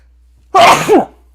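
A single loud, close sneeze in a two-part burst, a sharp intake then a forceful expulsion, standing alone in otherwise quiet surroundings during a wrestling show commentary.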